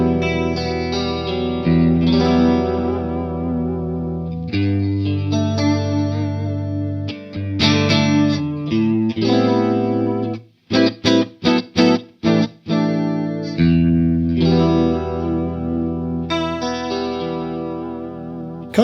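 Electric guitar through a Walrus Audio Julianna chorus pedal, split stereo with dry signal on one side and wet on the other, playing sustained shimmering chords and a burst of choppy staccato stabs, loud and clear with no talking.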